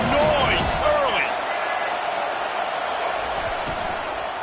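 Stadium crowd at an Auburn college football game: a steady, broad roar of many voices throughout, with squeaks and thumps near the start and a commentator talking over it.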